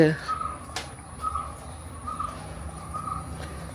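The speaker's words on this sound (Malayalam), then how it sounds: "കിളിയൊക്കെ ഉണ്ട് കേട്ടോ" Crows caw around a house in a quiet residential setting, several short calls spaced out at moderate distance over faint insect chirping and low background hum.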